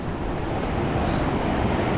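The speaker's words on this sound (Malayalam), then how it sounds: "അവിടെ വെള്ളം നല്ല രീതിയിൽ ഇങ്ങനെ സ്പ്രേ ചെയ്യുന്നുണ്ട് കേട്ടോ." Water spraying out at the Chimmini earth dam, a constant loud broadband rush like heavy spray or surf that stays steady throughout with no pauses.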